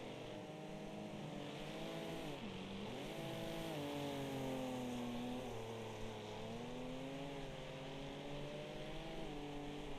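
Trans-Am race cars battle for position in Wreckfest at Firwood, their engines revving and shifting through gears in a continuous, overlapping roar of several cars with pitch rising and falling, no talk.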